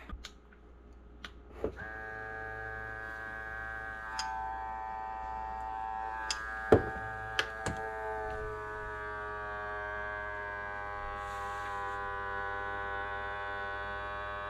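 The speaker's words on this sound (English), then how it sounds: "It's a lot quieter than a regular vacuum sealer," A cordless jar vacuum sealer pulls a vacuum on a regular mouth jar with a quiet, steady electric whine that holds and slowly sinks in pitch, broken by a few clicks and taps.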